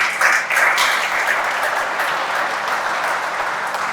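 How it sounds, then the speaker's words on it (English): A crowd at an annual meeting applauds in a dense, steady wash of clapping that holds at a consistent loudness throughout. "I think we need to give them a round of applause"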